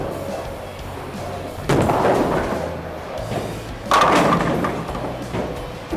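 A Storm Absolute bowling ball rolling down the lane and crashing into the pins, with two loud thudding impacts and a clattering rumble, heard at a distance in an echoing bowling alley.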